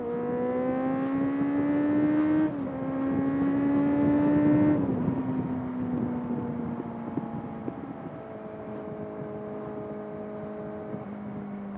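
A Kawasaki Z800 motorcycle engine drones steadily as it accelerates past cars, pitch climbing then dropping with gear changes, loud and close throughout.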